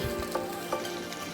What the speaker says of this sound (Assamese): প্ৰথমতে দিব, পিঁয়াজে ভাজি থাকিব